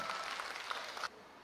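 Audience clapping at an outdoor busking concert on an open-air stage in a park, a steady broadband patter of applause holding for about a second before stopping abruptly.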